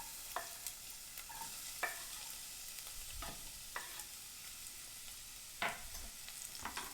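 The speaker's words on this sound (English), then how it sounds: "I'm gonna go ahead and put those onions in." Onions sizzle steadily in hot olive oil over medium-high heat, a constant close frying hiss broken by occasional sharp spoon clicks and stirring scrapes, with no talking.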